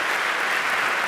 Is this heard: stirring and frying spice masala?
no